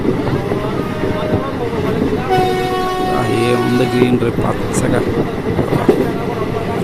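The Vijayawada to Macherla passenger train rumbles steadily from onboard, a continuous rolling roar with tonal hum and a brief horn-like tone midway, while a voice speaks briefly over it.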